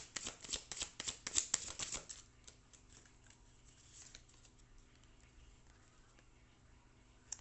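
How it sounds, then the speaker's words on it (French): Oracle cards being gathered up from a spread, a quick series of soft riffling, shuffling snaps in the first two seconds, then quiet room tone. "Je vais recouvrir le tirage."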